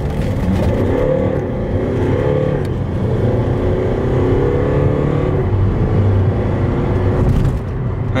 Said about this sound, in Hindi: सही पिकअप हो गया मेरी कार का, पहले से बहुत ज्यादा फर्क है ना